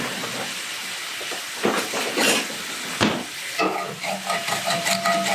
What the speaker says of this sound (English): Get all that yumminess off the bottom of the pan.